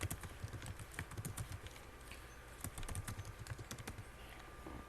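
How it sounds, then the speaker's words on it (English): Quick, light tapping on a computer keyboard as a Roblox username is typed, a rapid run of soft close clicks with no speech. "take out this name and type in your Roblox username"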